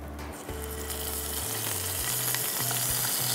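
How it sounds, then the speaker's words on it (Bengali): Shahi kofta frying in a pan gives a steady, close, continuous sizzle that runs throughout, with a faint low hum beneath it. "এটা হতে থাকুক, একটু ভাজাটা হোক।"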